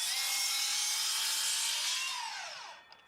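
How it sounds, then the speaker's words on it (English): A power saw slices through the end of a wooden fence batten in one short, steady whining cut that winds down as the blade spins to a stop. "First, I cut clean ends onto each batten,"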